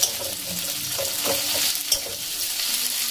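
Boiled potatoes are stirred into fried onions in a pan, with a continuous close sizzle and a few soft spatula knocks and scrapes. No one speaks.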